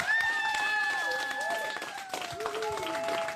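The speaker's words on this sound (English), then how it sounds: "back home a group of traditional custodians was cheering on" Aboriginal traditional custodians of Murujuga gather back home, cheering and clapping in celebration of a UNESCO World Heritage decision. Rising whoops and voices ride over steady group applause the whole time.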